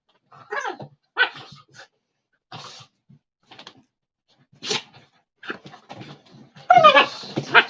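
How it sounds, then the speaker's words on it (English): A dog barks and yips repeatedly in short, uneven bursts, some whiny and high-pitched, moderately close in an otherwise quiet room with no talking. "You hear my mean puppy in the background?"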